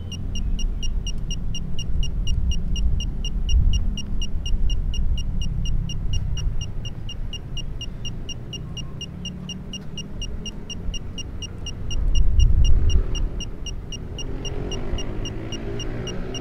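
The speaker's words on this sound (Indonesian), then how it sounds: "Semakin dekat dengan rebar, maka bunyi pipnya akan semakin cepat." Novotest concrete cover meter emitting a steady train of rapid, evenly spaced electronic beeps as it sweeps over rebar in concrete, the beeping continuous throughout over a low rumbling background with occasional handling noise.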